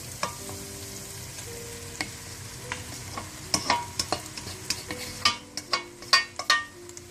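Green chillies and cauliflower stirred in a pan of hot oil for gobhi gosht: a steady sizzle under spoon scrapes and clinks against the pan that grow more frequent toward the end, with no talking.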